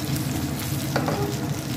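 Fish for a beach-style fry crackling in hot oil, with a spoon now and then scooping oil over it, a dense, loud, continuous sizzle close by with faint spoon touches.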